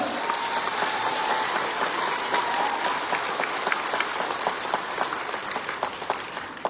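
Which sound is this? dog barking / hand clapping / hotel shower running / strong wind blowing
hand clapping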